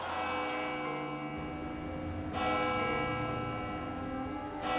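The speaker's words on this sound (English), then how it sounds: "It's a bell tolling from this church, Saint-Germain-l'Auxerrois" A church bell at Saint-Germain-l'Auxerrois in Paris tolls with sustained, resonant ringing. A fresh strike comes about midway, over a steady low rumble.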